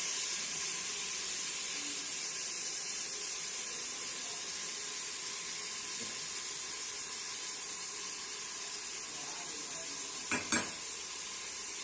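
Ingredients for chicken biryani sauté in a pan with a steady, even sizzling hiss that carries on quietly throughout, broken near the end by two short, sharp clinks of a utensil.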